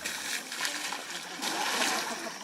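Zoo elephants splash under their own shower, a continuous near hiss and splatter of falling water that swells and fades slightly over a couple of seconds.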